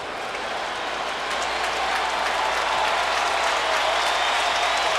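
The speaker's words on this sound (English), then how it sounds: "the crowd is cheering that fact" A baseball crowd at Yankee Stadium cheers and applauds during a Blue Jays at Yankees game, a broad, sustained roar of clapping and cheering that swells slightly louder over several seconds.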